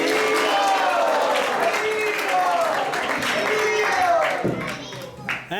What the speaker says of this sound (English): Let's give Balabhadra Prabhu a big, big round of applause